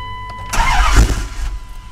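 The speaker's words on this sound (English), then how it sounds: "See, it fires and then just dies." A car engine cranks, catches and fires for about a second in a loud burst, then dies back to a low rumble, close by and with no talk over it.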